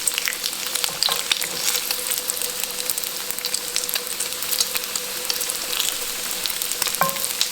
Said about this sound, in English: That good old bacon. Just want to get it good and crispy.